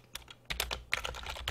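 Quiet, close-up typing on a computer keyboard, with a short cluster of key taps followed by a denser run of quick clicks and no talk.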